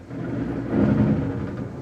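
Loud thunder rumbles through a storm, a deep sustained roll swelling to a peak in the middle and easing off, close and heavy with no voices.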